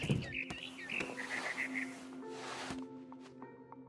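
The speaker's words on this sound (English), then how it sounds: "Then I heard chirping outside my window. It was a barn swallow going back to her nest." Bright, quick barn swallow chirps repeat in short bursts over a soft hum, with tonal electronic game sounds in the background, from the video game What Remains of Edith Finch.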